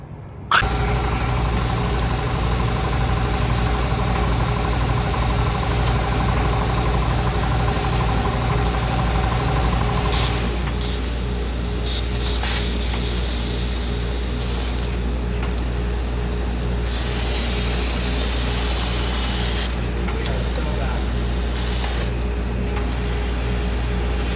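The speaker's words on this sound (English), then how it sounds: "Let's get to cutting." A power tool cuts a hole in the hood of a big-turbo BMW M240i to fit a titanium trim ring. A steady, loud mechanical whine and grinding drones on throughout, changing tone partway through, with no talking.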